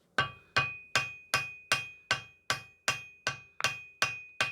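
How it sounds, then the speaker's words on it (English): Eleven sharp, ringing strikes of a lighter hammer on hot steel land at an even pace during forging, each clang decaying before the next, close and clear with no talking. "I've swapped out a bit of a lighter hammer so I can be a bit more accurate in my swings."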